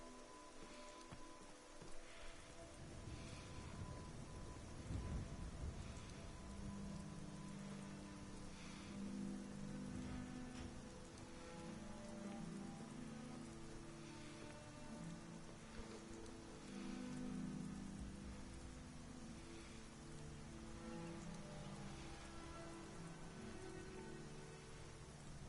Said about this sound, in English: It's a stormy day in Skyrim.